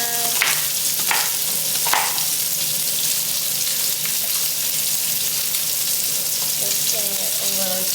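Chicken and carrots frying crispy in a pan, a loud continuous sizzle with occasional stirring scrapes and clinks rising over the hiss.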